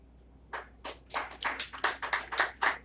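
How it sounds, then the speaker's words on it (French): Applause from an audience at a certificate of honour ceremony for journalists: a few hands clapping, starting sparse and irregular and then thickening into a modest patter. "Sur vos applaudissements, mesdames, messieurs, plus fort, plus fort."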